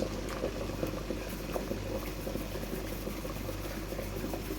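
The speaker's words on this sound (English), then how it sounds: "I'm just gonna put my dumpling into my pot right now." A pot of water boils hard while a dumpling goes in for a Jamaican-style meal: steady, soft bubbling and patter, fairly quiet and continuous, with no voices.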